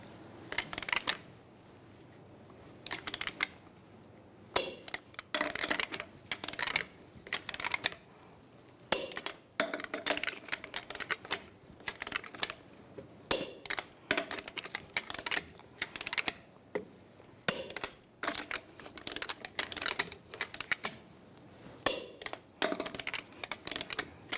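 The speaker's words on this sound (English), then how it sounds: "Now I'm going to torque these to 140 foot-pounds in a cross pattern to tighten the wheel down evenly." A torque wrench tightens the wheel lug nuts on a 2007-2013 Chevrolet Silverado 1500 in a cross pattern, giving repeated bursts of close metallic ratcheting clicks separated by short quiet gaps.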